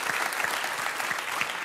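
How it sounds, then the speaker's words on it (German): A studio audience on a German talk show breaks into brief, even applause, a fairly distant and soft wash of clapping. "Gibt es einen Applaus mit Foto?"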